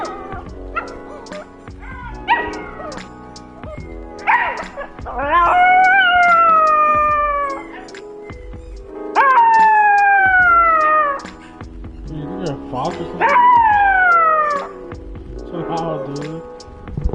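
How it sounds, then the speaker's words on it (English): A pet dog howls along with a video playing nearby, letting out long, loud, wavering howls in three main drawn-out bursts between shorter yips and whines. "you want to hear our dog howl?"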